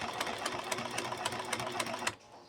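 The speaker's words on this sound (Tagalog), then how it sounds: "Ito pala, kailangan natin tahiin dun sa gilid." A sewing machine stitches piping along the edge of fabric in a steady, fast rhythmic whir with regular needle clatter, then stops abruptly near the end.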